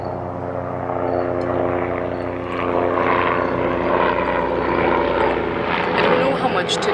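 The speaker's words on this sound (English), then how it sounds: "apologies about the plane" A propeller airplane drones overhead outdoors, its engine hum rising and holding loud and steady while a person keeps talking over it.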